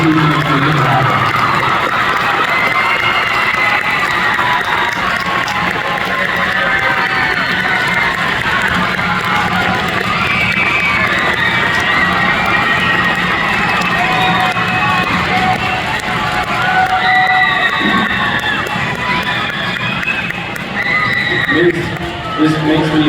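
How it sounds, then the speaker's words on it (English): A large crowd at a 4th and 5th grade orchestra concert cheers and claps continuously and loudly, with whoops and shouts rising above the sustained roar of applause. "Can we give a big, huge round of applause for all of these fabulous people"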